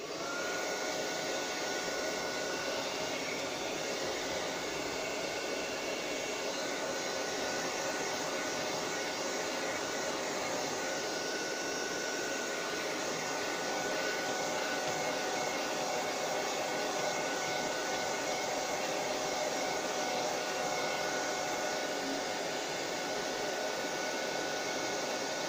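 A hair dryer blows steadily on freshly applied metallic paint on a book-shaped box, its loud, even whir holding without a break from start to finish.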